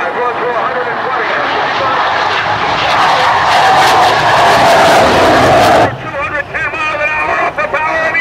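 The Shockwave jet truck at the 2005 Willow Grove Airshow accelerates with its afterburner lit. A loud, broad roar builds and holds for several seconds, then drops sharply, leaving a fainter engine rumble under a commentator's voice.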